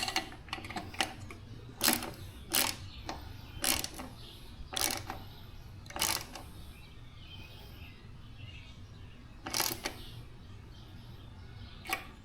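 Bolts are tightened down on a lay-down license plate mount, a series of quick ratcheting clicks in short bursts, close and fairly crisp, with pauses between runs.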